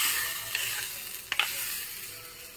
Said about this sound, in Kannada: ಈಗ ಇದಕ್ಕೊಂದು ಸಾಸಿವೆ, ಇಂಗು ಮತ್ತು ಕೊಬ್ಬರಿ ಎಣ್ಣೆ, ಕರಿಬೇವು ಹಾಕಿ ಒಗ್ಗರಣೆ ಹಾಕ್ತಾಯಿದ್ದೀನಿ